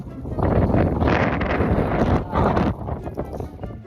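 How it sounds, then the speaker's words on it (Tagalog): Strong wind at Gaomei Wetland, Taiwan, buffets the microphone in loud, rumbling gusts that swell and ease, tapering off toward the end; no one speaks. "Ang lakas ng hangin dito kahit mainit."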